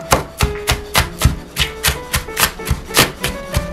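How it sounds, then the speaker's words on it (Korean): A knife julienning the white part of a green onion on a cutting board, steady rhythmic chops, about a dozen crisp taps close up and alone. "가운데 동그란 거 빼고 쫙 펼쳐가지고 채를 썰어주세요."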